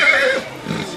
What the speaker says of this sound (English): Some lead pack horses.